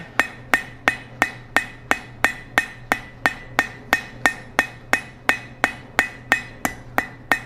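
Steady hammer blows on hot steel being forged into a fire poker, a clean ringing strike roughly every half second, loud and close, with a faint hum underneath and no voices.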